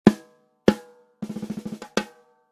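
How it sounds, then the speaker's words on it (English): Snare drum struck close up: two single hits, a quick roll of rapid strokes, then one more crisp hit. "And the snare drum sounds like this."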